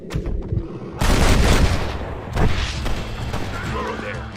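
Gunfire from the video game Red Dead Redemption during a shootout with bandits: loud, close booming shots that bunch into a dense burst, then further reports trail off.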